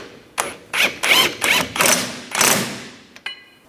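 A ratchet snugs down the sway bar link nut on a 2007–2010 Mini Cooper, heard as about six quick, loud, close bursts of clicking in a rhythmic series, each followed by a short pause, ending with a faint metallic tick.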